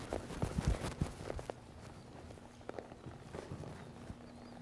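Hooves of a cutting horse shuffle and thud on soft ground while working a cow, with irregular quiet steps that come in a busy burst early on and then thin out to scattered faint hits.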